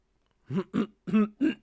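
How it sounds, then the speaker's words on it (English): A man clears his throat in short rasping bursts, four quick close-up throat clears and small coughs in a row with brief pauses between them, in an otherwise quiet room. "It wants me to make those like annoying small coughs all the time"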